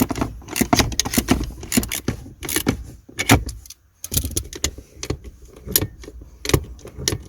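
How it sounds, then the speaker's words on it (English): Metallic ratcheting and clinking of a 10mm socket wrench adjusting the handbrake cable inside a Vauxhall Astra, with rapid irregular bursts of clicks and rattles, close and fairly loud, and a brief pause midway. "So just gonna use a 10mm socket to adjust the cable."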